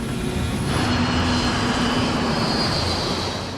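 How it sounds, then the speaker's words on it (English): A normal passenger airplane flies above houses in Queens, New York, a loud continuous engine roar filling the whole stretch and holding steady without a break. "The sound at first was just a normal airplane flying above."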